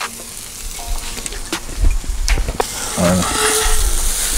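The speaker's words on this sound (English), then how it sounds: "Making sure that meat is hitting that grill and getting a good cook." Pepper steak sizzles loudly on a hot Blackstone griddle with steady broadband frying hiss, punctuated by scraping and stirring clatter from a spatula; a brief word of speech passes near the start.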